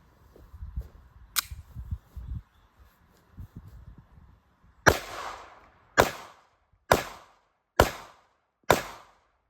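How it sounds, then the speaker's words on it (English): Five sharp, loud gunshots from an FN Reflex 9mm pistol at test firing, evenly spaced about a second apart, each with a short decaying crack, following a stretch of quiet handling and rustling noises. "So we'll put some rounds through it, see what happens."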